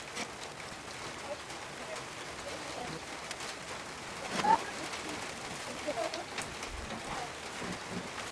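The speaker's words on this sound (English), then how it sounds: "it started raining" Steady rain falls outside a garage, a soft continuous hiss of drops on the surface with a brief louder patter midway and faint bird coos in the background.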